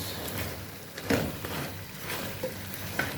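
Green chilies fry in hot oil with a steady, close sizzle and a few sharper crackles and pops scattered across a few seconds.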